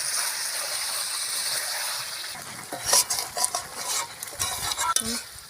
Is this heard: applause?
no